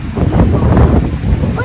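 Wind buffets the microphone outdoors on a cold, windy day in Auckland, New Zealand, as a steady, loud, low rumble that runs through the whole short stretch with no pause.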